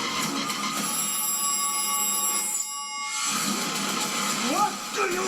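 A telephone rings in a television drama scene, repeated bright electronic ringing tones that stop briefly midway, with voices and other sounds mixed in underneath.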